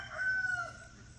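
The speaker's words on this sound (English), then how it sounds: "Special rooster that I have." A farmyard rooster crows once, a drawn-out cock-a-doodle-doo heard from a moderate distance over a low background hum, with no talking.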